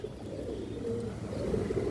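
A continuous low, throaty cooing of pigeons rolls on nearby, steady and moderately quiet with no voices over it.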